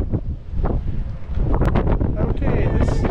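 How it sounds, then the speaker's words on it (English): Strong wind buffets the microphone at the forward bow of the Royal Caribbean cruise ship Adventure of the Seas, a loud, continuous roaring rush with gusty swells throughout. "It is very windy."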